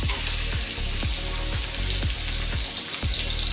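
Pomfret fish coated in flour and semolina fries on a hot tawa, giving a loud, continuous sizzle with faint regular ticks and no voices.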